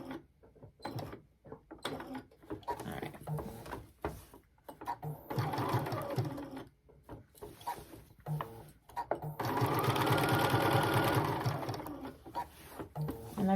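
A sewing machine with a knee lift stitches a pillowcase in short bursts of rapid, quiet mechanical whirring, with a longer steady run near the end and pauses between.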